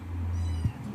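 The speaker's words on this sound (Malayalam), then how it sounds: "എൻ്റെ പൂച്ച വരെ ഒന്ന് കാണാൻ" A pet cat gives a single short meow up close, clear and alone against a low background hum.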